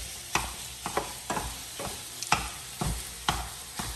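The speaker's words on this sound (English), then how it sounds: "we are about to start cooking the ground beef" Ground beef browns in a pan with a steady sizzle, stirred in a regular rhythm of about eight sharp scraping strokes, close and moderately loud with no talk.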